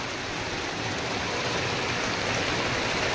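Heavy rain falls near a tin sheet shelter in farm country, a loud, steady, hissing downpour with no pauses and no voices.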